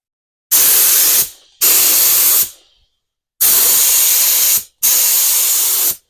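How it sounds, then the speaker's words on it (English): Automotive paint spray gun test-spraying a 6 to 8 inch fan before painting a car's driver side: four loud, close bursts of hissing spray, each about a second long, separated by short silent gaps. "Let's spray the car."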